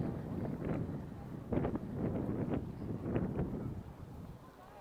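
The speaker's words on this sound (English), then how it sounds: "And the wind." Gusty wind buffets the microphone outdoors in the Luxembourg Gardens in Paris, rising and falling in rough, rumbling bursts close to the mic.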